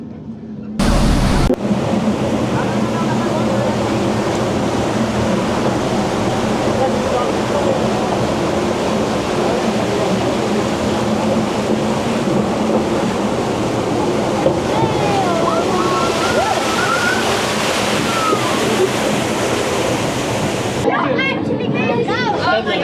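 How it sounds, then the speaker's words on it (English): A waterfall roars beside a theme park train ride at Le Pal, a loud, constant rush of water close by, with people talking over it. "it goes behind one of the waterfalls near the water ride"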